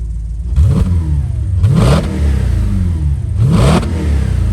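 An Audi RS5 V8 engine revs hard three times in quick blips through a Scorpion exhaust, each rising then dropping back to a rumbling idle, loud and close.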